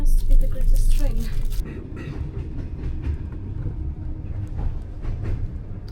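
Overnight sleeper train running on rails, a steady low rumble with rhythmic clatter and bouncing, louder at first then settling into a continuous background under conversation.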